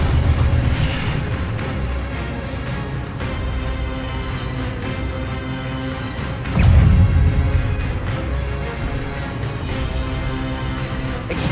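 Incendio fire and Expelliarmus disarming spell blasts in the game Hogwarts Legacy, landing as booming bursts over a dense, loud battle din, one heavy impact standing out midway, with no voices.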